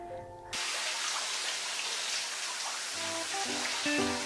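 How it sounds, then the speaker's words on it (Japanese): A shower is turned on in a home bathroom during an evening routine: after a quiet start, a steady, close, hissing rush of falling water sets in and runs on, with faint clinks near the end. "이제샤워를하고"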